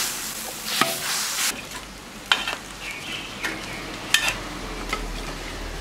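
Pork intestines and bamboo shoots stir-fried over high heat with rapeseed oil, bay leaves and a splash of baijiu, a close hissing sizzle punctuated by repeated sharp scrapes and clanks of the spatula against the wok, with no talking.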